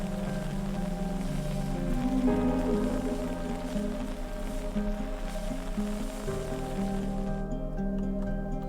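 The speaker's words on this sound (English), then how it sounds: "the sound of that rain is amazing" Steady rain falls in the video game The Mystery of Rachel Foster, a continuous patter under sustained music tones, even and moderately loud throughout.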